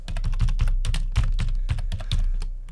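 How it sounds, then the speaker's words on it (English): Someone types a blog post title on a computer keyboard, producing a close, quick run of clicking keystrokes in an uneven rhythm over a low steady hum. "You just type your title"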